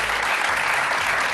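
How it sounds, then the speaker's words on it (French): Studio audience at a television show gives loud, sustained applause, a thick continuous roar of clapping hands that stays even and close throughout, with no talking over it. "On applaudit Albator."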